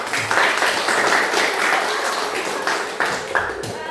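Students in a classroom clap together for a classmate's role-play, a dense, steady round of applause, close and fairly loud, lasting a few seconds with a few sharper claps near the end.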